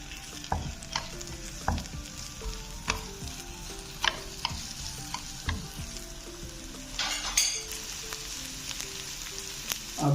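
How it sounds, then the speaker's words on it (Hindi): Onions fry and brown in a pan for a spinach and potato curry, giving a steady close sizzle broken by repeated scraping stir strokes, with no voices. "प्याज को हम ब्राउन करेंगे।"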